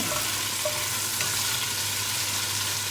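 Meat browns in a pot for Irish stew with a steady, even sizzle close by and no talking, a constant hiss of fat without stirring.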